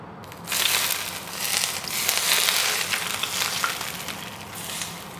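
Hot oil poured over a steamed grouper, a close, loud burst of sizzling and crackling that swells quickly and hisses steadily for several seconds, with no talking.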